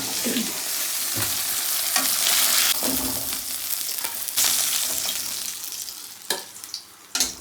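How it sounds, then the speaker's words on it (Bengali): The remaining fish frying in hot oil in a kadai, a continuous loud sizzle broken by bursts of spatter and stirring, with a few sharp utensil clatters toward the end. "এবার এই বাদ বাকি মাছটাও ভেজে নেবো"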